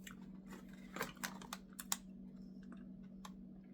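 A crispy chocolate-coated snack with a crunchy filling is bitten and chewed, producing a handful of faint, sharp crunches close to the mouth over a low steady hum.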